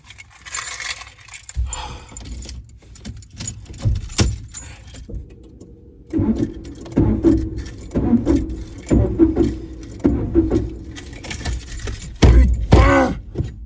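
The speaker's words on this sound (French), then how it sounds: "me voilà dans la voiture du coup. On va essayer de la démarrer." Inside a car, keys jangle and clink near the ignition, followed by low thumps and a dull rumbling as the driver tries to start it.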